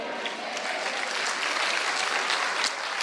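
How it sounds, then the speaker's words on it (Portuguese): A church congregation applauds loudly and continuously, with a dense wash of clapping filling the room from start to finish. "Aplauda mais forte."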